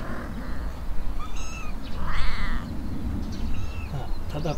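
Several young rescued kittens out on their first walk give high, thin meows in short repeated bursts over a low background rumble, close by and fairly clear.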